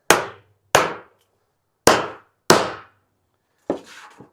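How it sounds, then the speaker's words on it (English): Five sharp metallic strikes of a rib runner tool dimpling metal roofing ring out at uneven intervals, each with a short clanging decay, the last one rattling slightly longer. "now we have our dimples that we can now drill for all of our different screws"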